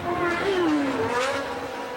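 Formula 1 cars lapping the 1981 French Grand Prix, a Lotus among them, their engine notes sweeping up and down in pitch as they pass at a distance over steady track ambience.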